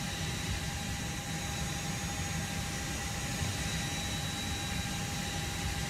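In an A320 flight simulator, a jet engine spools up with a steady whining roar that holds at an even, moderate level throughout, with no talking over it.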